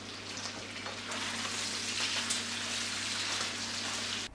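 Bacon sizzles steadily in a covered pan, a dense, even crackle of rendering fat that goes on without a break before cutting off sharply at the end.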